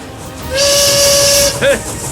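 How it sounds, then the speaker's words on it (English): A steam train whistle gives one loud, sustained blast of about a second, followed by a short second toot, with airy steam hiss around it. "Never mind the whistle."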